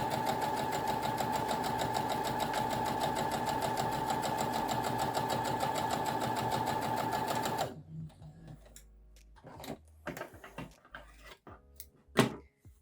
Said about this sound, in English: And you can try your line of stitching.